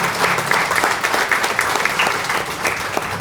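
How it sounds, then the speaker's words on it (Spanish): Audience at a book presentation for author Aldo Antonio Farro breaks into steady, sustained applause, dense clapping filling the room without pause. "Demos un fuerte aplauso al autor"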